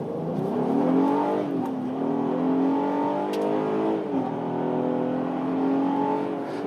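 An Acura MDX A-Spec with SH-AWD pulls away from a stop. The engine rises steadily through the gears with a smooth, moderately loud tone from inside the cabin, and no one talks over it.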